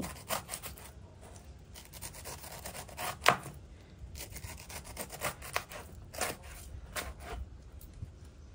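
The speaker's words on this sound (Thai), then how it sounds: "หั่นเปลือกให้หนาหน่อยนะคะ" Repeated rough cutting and scraping strokes, a knife working through tough pineapple peel, close and steady with a few sharper cuts, no talking.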